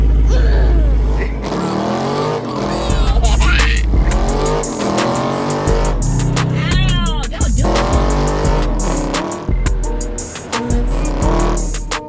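Heavily modified high-performance cars, a Dodge Hellcat and a boosted C6 Corvette, roar loudly through a drag race, with engine howl, rising revs and shifts throughout, some tire noise and faint voices mixed in.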